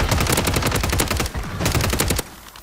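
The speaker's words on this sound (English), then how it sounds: "Just got shot out of the air." Call of Duty Warzone Rebirth Resurgence gunfire: rapid automatic bursts crackle loudly and almost continuously, with a short lull before another volley and a quieter tail at the end.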